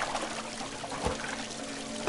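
A bucket scoops and pours water in the puzzle game Christmas Stories: The Nutcracker, giving a continuous trickling stream with a soft dull knock midway.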